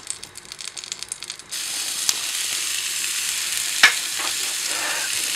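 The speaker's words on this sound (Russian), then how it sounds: "Помешиваем лук, не даем ему пригореть ни в коем случае" A steady, fairly quiet sizzle of onion frying in butter in a pan, with a few light scraping clicks of stirring and a brief soft clatter partway through.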